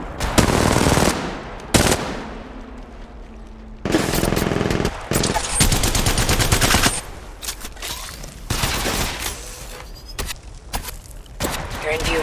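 Automatic weapon fire in Apex Legends rattles in long, loud, close bursts with short pauses between them, mixed with game voice callouts and other battle effects.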